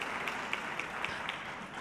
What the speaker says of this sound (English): I thought that deserved extra applause.